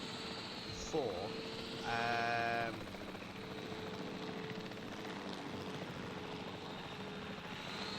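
A helicopter in Jurassic World Evolution 3 drones steadily at a low, even hum through the scene, under someone talking and brief game alert tones.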